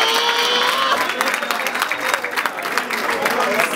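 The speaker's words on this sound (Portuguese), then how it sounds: "Palmas pra essa batalha!" Crowd applause and shouting at a Brazilian street rap battle in Barueri, São Paulo, a dense, steady wash of clapping and voices lasting throughout, close and loud.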